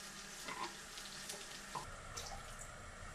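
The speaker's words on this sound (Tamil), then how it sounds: "தண்ணி நல்லா கொதிச்சு வந்துருச்சு." Water at a boil in a cooking pot, ready for rice, with rock salt and mint added, for mutton biryani: faint, soft bubbling and sizzling hiss with a few light clinks, quiet and close.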